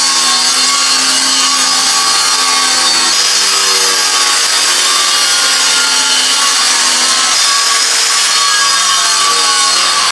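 Continuous loud hand sawing through wood flooring, a harsh rasping stroke that runs steadily for several seconds with brief changes in pitch.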